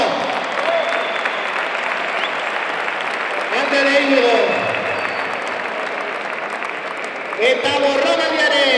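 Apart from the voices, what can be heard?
audience applause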